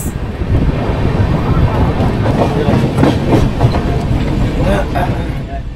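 The 12152 Samarsata Express pulls into Lokmanya Tilak Terminus in Mumbai, a loud, steady rumble with rattling carriages and rhythmic track clatter, buffeted by wind noise throughout.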